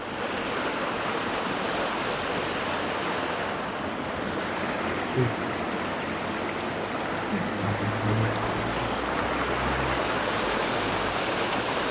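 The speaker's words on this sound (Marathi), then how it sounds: "हा पाणी बघा फोर्स मध्ये होते" Forceful rushing water at a river site near the Tilsa temple in Wada, where fish gather, roars as a loud, steady broadband wash for the whole stretch, with gusts of wind buffeting the microphone.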